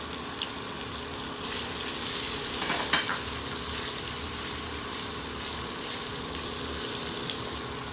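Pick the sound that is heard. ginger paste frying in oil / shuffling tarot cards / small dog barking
ginger paste frying in oil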